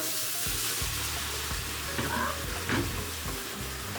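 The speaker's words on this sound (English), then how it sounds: "So I'm gonna add a little water." Water hitting a hot pot of Jamaican curry goat, a loud continuous sizzle and bubbling hiss with stirring clatter, close and steady.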